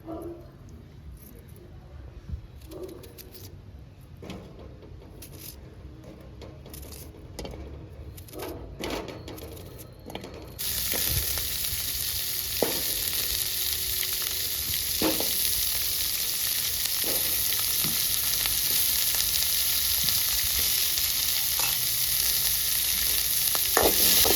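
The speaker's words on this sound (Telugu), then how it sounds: "ఇప్పుడు ఉల్లిగడ్డ వేసి ఫ్రై చేసుకుందాం" Two onions frying and sizzling in oil while being stirred, for a Telugu sesame roti pachadi; scattered clinks of stirring come first, then a loud, steady broadband sizzle takes over and holds to the end.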